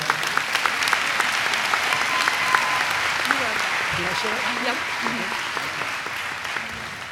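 Commencement crowd at an education graduation ceremony applauds a row of graduates, a continuous wash of clapping from a large hall, with faint voices murmuring beneath.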